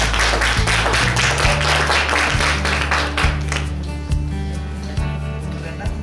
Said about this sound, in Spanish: Un aplauso, por favor, para Gaia.